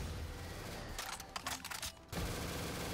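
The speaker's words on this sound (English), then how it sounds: "this gun has an absurd rate of fire. And now it's pack-a-punched." Rapid gunfire from an upgraded, pack-a-punched gun with an extremely high rate of fire in a Call of Duty zombies custom map, a dense burst of shots lasting about a second over steady game background noise.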